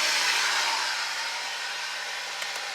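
A BMW X5 air suspension compressor runs steadily as a loud, continuous whirring hiss that stays fairly even throughout, easing slightly toward the end, with no one speaking.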